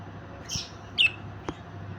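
A few short, sharp squawks and chirps from a pair of English budgerigars over quiet background hiss, scattered and close.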